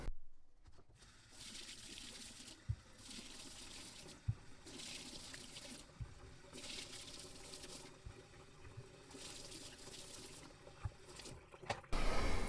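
Tap water runs while potatoes are washed in a home kitchen for a steak dinner, as a faint, steady trickle that swells and eases in several bursts, with occasional soft knocks and clatter.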